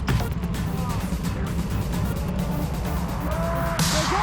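Go-karts pull away from the race start on an indoor karting track at Teamsport Leicester. Their engines make a loud, steady, close drone, with faint tyre squeals scattered through it.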